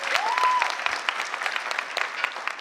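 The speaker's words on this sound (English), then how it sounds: "Give her a round of applause." An audience at a graduation ceremony claps for a top graduate, a brisk, steady round of applause that carries on alone throughout.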